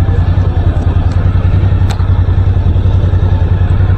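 A motorcycle on the road gives a loud, close, steady engine drone with a low rumbling throb that holds evenly throughout, with no clear rise or fade.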